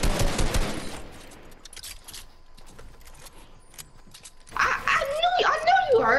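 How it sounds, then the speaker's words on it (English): Minigun fire in a video game comes as a dense, loud, rapid burst right at the start, then fades into quieter background noise before voices start talking excitedly near the end. "All I heard was me spraying a minigun"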